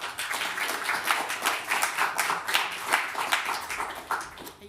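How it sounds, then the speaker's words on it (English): A small symposium audience claps for the speakers, distinct individual hand claps in an irregular, moderately loud patter that continues throughout. "give them a round of applause"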